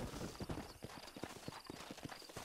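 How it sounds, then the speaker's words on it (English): Horse hooves clip-clopping in the video game Red Dead Redemption, a steady rhythmic run of hoofbeats over a dense background of ambient game noise, close and continuous. "let's go ahead and call our horse here"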